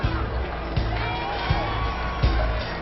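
A game crowd in Honkai Star Rail cheers and murmurs as a loud, continuous backdrop, with rhythmic low thumps pulsing underneath at regular intervals.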